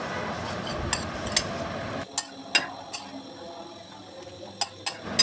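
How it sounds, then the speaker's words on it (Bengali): A metal spoon mixes leftover rice with salt and other ingredients in a bowl, giving a soft continuous scraping stir broken by several sharp clinks of spoon against the dish. "এবার সবগুলো উপকরণ খুব ভালোভাবে একটি চামচের সাহায্যে মিশিয়ে নিতে হবে।"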